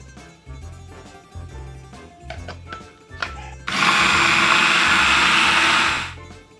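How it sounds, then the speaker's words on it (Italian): A blender chopping roasted pumpkin with oil, preceded by a few light clinks and handling sounds, then a loud, steady motor whir for about two and a half seconds that winds down. "Mettetela nel frullatore con l'olio e tritate."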